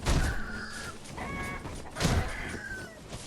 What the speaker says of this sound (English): There's roosters down here.